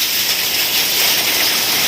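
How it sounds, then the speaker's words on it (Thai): Heavy rain with hail pounds a roof during a strong windstorm, producing a dense, loud, continuous hiss that fills the whole moment without any speech. "ตอนนี้ฝนตกแรงมากนะครับ"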